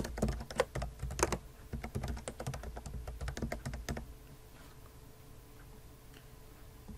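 Password typed on a computer keyboard: a dense run of close, quick key taps for about four seconds, then the clicking stops and only a quiet room hum with a few faint ticks remains.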